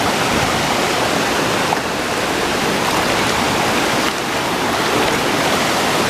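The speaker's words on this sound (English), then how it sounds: "There's a waterfall right there, so if I fall, I'm just like gone." A nearby waterfall roars steadily, a dense, unbroken rush of falling water that fills the whole clip at high volume with no voices.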